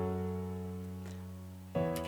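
Piano chords in FL Studio sound with all notes struck together rather than strummed, a held chord fading before a fresh block chord lands abruptly near the end, played alone and fairly quiet.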